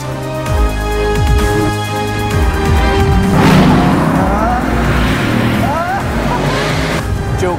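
A Bugatti Veyron of about 1,200 horsepower pulls hard, its engine note climbing through rising sweeps and gear changes, close and loud, with tyre noise and a roaring rush swelling midway.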